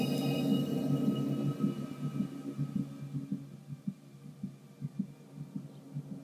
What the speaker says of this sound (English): that's kind of cool with the heartbeat and the phone call